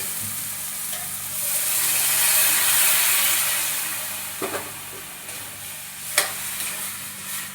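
Bari sabzi cooking in a pan, a steady hiss of frying that swells and fades, with a few sharp stirring scrapes of a spoon near the end and no talking.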